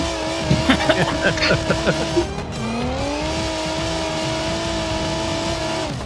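A drift car engine in the BeamNG video game screams at high revs, sustained and loud, with a brief stretch of tire squeal and shifting near the start.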